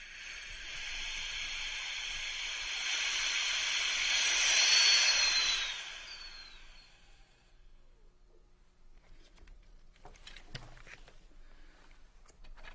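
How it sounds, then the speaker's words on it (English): SCBA air cylinder system with the cylinder valve closed, its bypass knob cracked to bleed off pressure: a steady, fairly loud hiss of escaping air that swells, then tapers away after about six seconds, leaving quiet handling noises. "cracking the bypass knob to bleed off any pressure"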